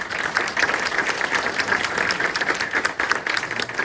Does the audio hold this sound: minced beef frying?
no